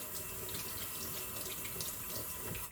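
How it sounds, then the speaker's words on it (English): Tap water runs steadily into a kitchen sink as a spoon is rinsed, a close, even splashing rush with no voices. "Let me rinse my spoon off."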